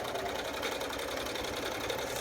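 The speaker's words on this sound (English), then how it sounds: "It's not hard to run a sewing machine." A home sewing machine runs steadily, a continuous close mechanical whir with a rapid, even needle rhythm and no pauses.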